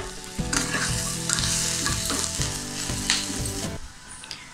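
Ingredients sizzle and fry in a pan, stirred until browning, with steady crackling and repeated scraping strokes of a spoon throughout; near and fairly loud, no talking.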